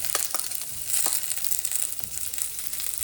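Onions fry in hot oil with mustard seeds and curry leaves for aloo gobi, making a constant near sizzle dotted with sharp crackles and spatters.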